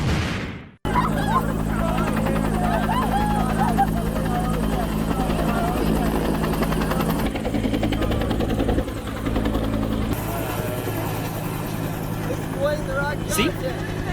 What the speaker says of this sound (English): we even saw a helicopter doing search and rescue training.